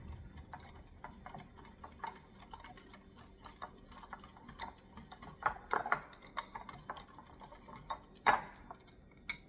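A utensil clicks and scrapes lightly against a bowl while melted butter is worked into a cinnamon roll mixture. The irregular ticking knocks are faint and close, with a few sharper clinks, and no one speaks.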